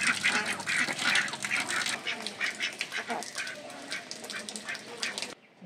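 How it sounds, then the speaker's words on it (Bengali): Ducks splashing and playing in water as a motor-filled tank overflows, repeated nasal quacks and wet splashes close by over a rushing water backdrop. "আর হাঁসগুলো পানির নিচে খেলতেছে।"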